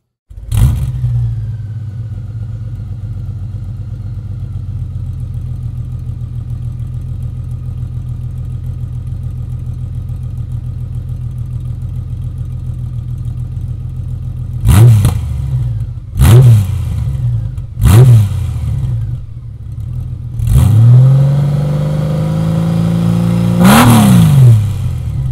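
A 2019 Honda Goldwing motorcycle with an E.G.G. exhaust system idles with a steady low rumble, then is revved in four sharp throttle blips followed by a longer, deeper rev, all loud and close.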